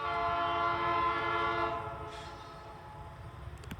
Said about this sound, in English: Oh, and there is a train down there.